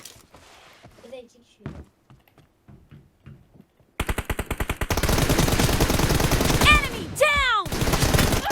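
Rapid automatic gunfire from PUBG Mobile erupts halfway through and rattles on loudly with whizzing ricochets, after quieter clicks and scattered voices at the start.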